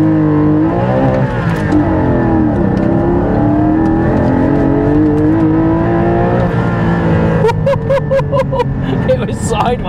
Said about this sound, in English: Right, let's do some 0 to 60s.